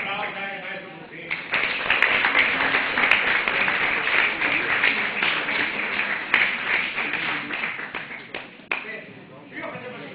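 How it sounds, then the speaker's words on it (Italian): An audience at a judo event applauds a judo master, a dense burst of clapping rising quickly, holding strong for several seconds, then tapering off, with voices underneath. "Naturalmente un applauso anche al maestro Buffini."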